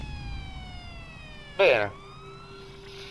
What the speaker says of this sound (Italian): Queste sirene cosa significa?